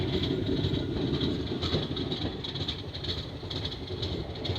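Koyna Express train from Mumbai to Kolhapur running along the line near a yard, heard from on board as a steady low rumble with faint rhythmic rattling of the coach.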